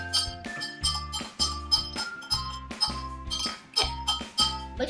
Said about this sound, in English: can you let Emma have the spoon and she can stir